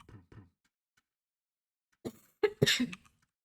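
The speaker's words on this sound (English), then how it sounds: "Need a little cough here." A few short, sharp coughs ring out close by after a quiet stretch, preceded by two softer, muffled bursts.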